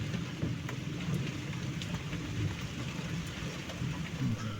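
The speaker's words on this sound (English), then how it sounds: "The copious amounts of rain are fabulous for collecting water, but very annoying when you have leaks." Heavy rain pounds steadily on a boat in a thunderstorm, a dense close hiss with a low rolling rumble of thunder beneath it and no voices.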